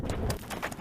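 Spanish horses' hooves clip-clopping on open hillside ground, a few quick sharp knocks in an uneven rhythm, close and fairly clear over a low background rumble.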